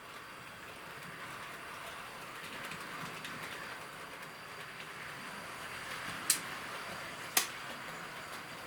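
A Hornby prairie tank engine runs on a model railway, giving a steady faint whirring hum of motor and wheels with two sharp clicks late on, likely from the points.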